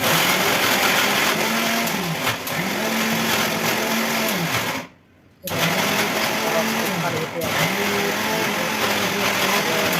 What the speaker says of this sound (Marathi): तर चला घेऊया आपण पटापट मिक्सरला बारीक करून.